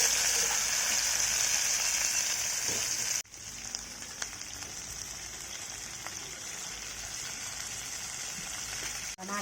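Chopped onion and green chilli hit hot oil for a brinjal and dry fish curry, giving a steady loud hissing sizzle that briefly dips, then continues evenly with faint spatters.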